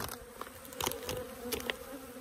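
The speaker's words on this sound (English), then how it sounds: "Look at that, full of bees" Honeybees packed in a hive that has just been fed a pollen substitute, a dense, quiet, continuous buzz with individual bees droning close by now and then.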